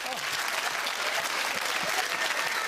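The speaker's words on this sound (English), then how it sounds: "the audience clapped" A studio audience at a television show claps in a dense, continuous burst of applause that holds at an even level throughout.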